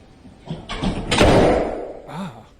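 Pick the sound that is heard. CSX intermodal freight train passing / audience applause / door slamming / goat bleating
door slamming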